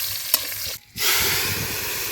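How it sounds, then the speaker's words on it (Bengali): Chopped onions and slit green chillies fry in oil for a chicken dish, a close, steady sizzle with a brief stirring clatter and a short gap before the hiss resumes. "পেঁয়াজ কুচি লাল লাল করে ভেজে নিব এর মধ্যে দিয়ে দিচ্ছি কয়েকটা কাঁচা লঙ্কা চেরা"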